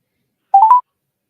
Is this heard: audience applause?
no